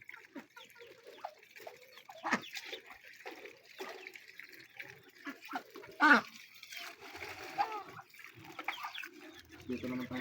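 Young ducklings and chickens chirp and cluck in a farm pen, a busy mix of peeps and calls at close range with occasional splashing water and people talking softly nearby.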